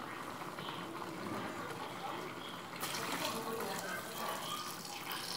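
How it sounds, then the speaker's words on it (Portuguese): Hot water poured into a pot of free-range chicken on the stove, a continuous splashing flow that grows louder and brighter about halfway through, with a faint voice in the background. "Coloca a água até quase cobrir o frango."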